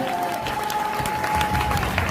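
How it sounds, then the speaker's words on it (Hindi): An audience claps at a motivational business talk, dense and steady for about two seconds, loud, with crowd noise and a few voices mixed in. "ताली मर्दों वाली बजाइए"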